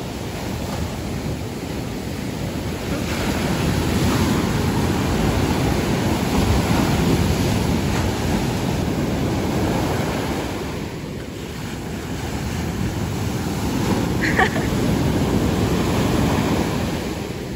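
Ocean surf at Baler rolls and crashes on the shore in a steady, loud wash of broken waves, with wind buffeting the microphone throughout.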